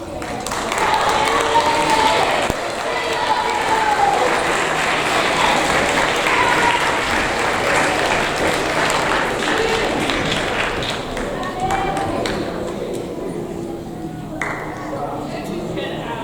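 A school audience gives a sustained round of applause at a seventh-grade awards ceremony for the award winners. The dense, even clapping fills the room, with voices mixed in and the clapping thinning slightly toward the end.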